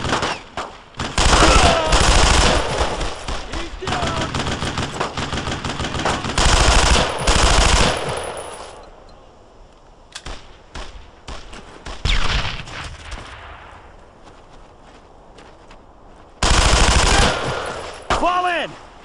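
A Thompson submachine gun fires in long, loud automatic bursts during a Brothers in Arms World War II battle, along with scattered gunshots from other weapons. Between the bursts there are brief lulls and some background game sounds.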